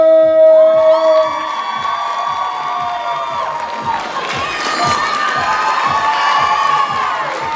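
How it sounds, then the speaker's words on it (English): Crowd at a cosplay contest cheering and shouting loudly, with high whoops and screams over a sustained roar and some clapping underneath. "Keep that cheer going, keep that applause going."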